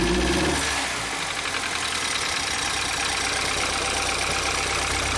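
A BMW X3 engine running loudly and close after earlier cranking trouble, a dense sustained roar with a slight rise as gas is given, no voices over it.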